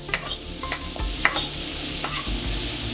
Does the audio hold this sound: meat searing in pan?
yes